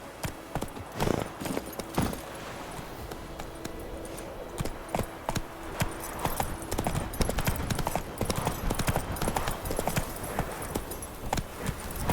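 Roach, a horse in the video game Witcher 3, gallops with a steady, dense clip-clop of hooves that stays loud and close throughout, joined by faint game ambience.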